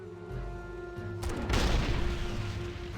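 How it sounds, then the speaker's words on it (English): An explosion goes off in World of Warcraft, a loud rumbling boom that swells about halfway through and lingers as a broad roar over a steady, sustained background tone. "Big explosion."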